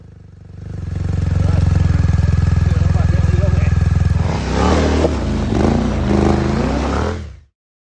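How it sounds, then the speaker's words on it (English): Motorcycles, including a big BMW GS adventure bike, are ridden over a log on an off-road trail: a loud, steady engine drone for several seconds, then rougher, uneven engine labouring with clattering, ending abruptly. "so Robbo rode most of the bikes over the log, including the big GS"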